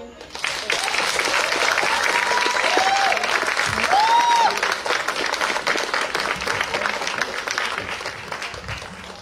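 Sustained applause from an audience at a community health event on AIDS, dense steady clapping filling the whole stretch with faint voices and a few whoops mixed in.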